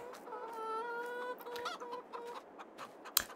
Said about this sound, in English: This is the chicken farm we added so this gives some early game revenue.